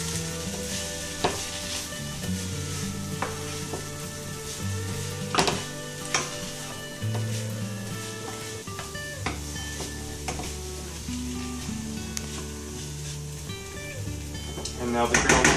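Parsley stirred into ground beef in a sizzling pan for Saudi Arabian macaroni, a constant close frying hiss with scattered utensil knocks and scrapes against the pan and a clatter at the end, with no talk.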